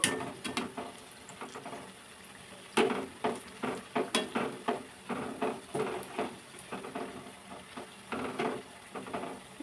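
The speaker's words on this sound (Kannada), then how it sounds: "ಲೋ ಫ್ಲೇಮ್ ಇಟ್ಕೊಂಡು ಈ ಥರ ನಿಧಾನಕ್ಕೆ ಫ್ರೈ ಮಾಡ್ಕೋಬೇಕು ಇದನ್ನು ಗೋಲ್ಡನ್ ಬ್ರೌನ್ ಕಲರ್ ಬರೋವರೆಗೂ" Snake gourd snack pieces frying slowly in oil over a low flame, giving a steady soft sizzle broken by repeated scraping and stirring clatters from a utensil against the pan.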